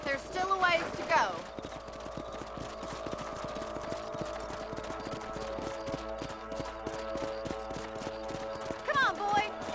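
A horse clip-clops at a steady walking rhythm while ridden in Red Dead Redemption, hooves beating evenly and close, with someone speaking at the start and end.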